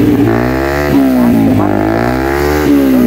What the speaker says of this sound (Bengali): আমার বাইকের এক্সস্টের আওয়াজ শুনতে, এক্সস্টের আওয়াজ শুনবা? শোনো, দাও স্টার্ট দাও।